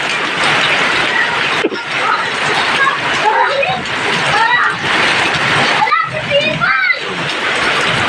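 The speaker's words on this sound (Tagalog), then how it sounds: "Lakas ng agos ng tubig na yan." Strong floodwater from an overflowing creek rushes and splashes continuously, a broad churning wash under frequent talking voices, including a child's.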